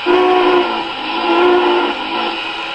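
A model MTH Union Pacific 4-6-6-4 Challenger steam locomotive whistle blows steadily with a breathy, multi-tone hiss, holding for a couple of seconds before easing slightly and swelling again, close and loud.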